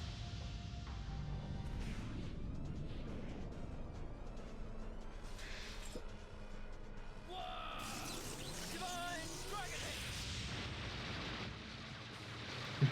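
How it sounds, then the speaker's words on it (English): Nuclear explosion attack in the Legend of Dragoon video game: a long rumbling blast with layered crackling effects and rising sweeps, steady and loud over several seconds, ending in a sharp hit. "Just a nuclear explosion."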